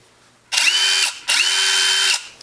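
Two bursts from a Craftsman V20 cordless impact driver, each spinning up quickly, holding a steady high whine for about half a second to a second, then stopping, with a short gap between them. Close and loud, with no talking.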